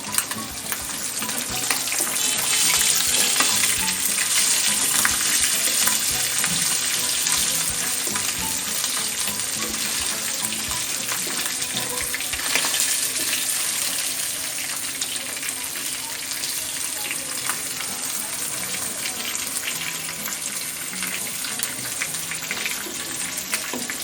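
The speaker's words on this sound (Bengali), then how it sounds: "খুব বেশি ভাজবো না।" Hilsa fish frying in a pan for a mustard-paste recipe gives a loud, continuous, close sizzle and hiss that holds steady throughout, with only slight swells in intensity.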